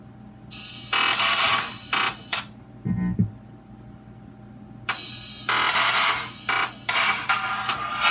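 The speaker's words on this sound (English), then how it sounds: "running this drum loop, which sounds something like this" A drum loop plays from a phone through a jack-cabled setup, coming in as loud bursts of clattering, buzzy percussion that start and stop in short phrases with quiet gaps between them.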